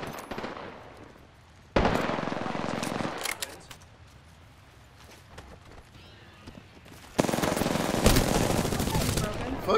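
Apex Legends gunfire: bursts of rapid automatic shots in two loud stretches separated by quieter game noise, with scattered single cracks in between.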